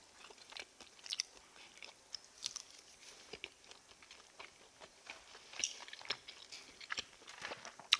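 Snow crab is chewed close to the microphone during a mukbang, with soft, irregular wet bites and crunches scattered over several seconds against a quiet background.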